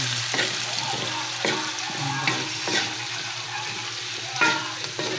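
Fish pochero with tilapia, sweet potato, carrots and banana sautéing in a pan, a close, steady sizzle broken by repeated scraping stirs of a utensil.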